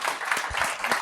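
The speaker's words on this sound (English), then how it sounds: "So big round of applause." Brief applause from a summit audience, a short burst of scattered clapping at moderate distance.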